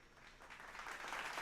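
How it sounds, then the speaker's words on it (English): Brief, faint applause from a crowd for the X-Men 97 crew, a soft wash of clapping that swells slightly toward the end. "Give the X-Men 97 crew a round of applause"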